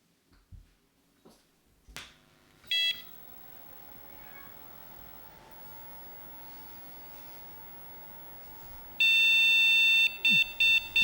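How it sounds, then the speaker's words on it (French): A flood-damaged Thomson TO16 computer powering on gives a short electronic beep, then a quiet hum and, later, a run of sharp repeated beeps amid faint clicks. "Ça bip, c'est bon signe."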